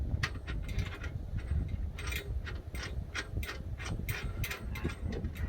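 Ratcheting clicks from a bolt being tightened on a budget bed rack fitted to a Jeep Gladiator, a steady run of quick, close mechanical ticks repeating throughout at moderate loudness.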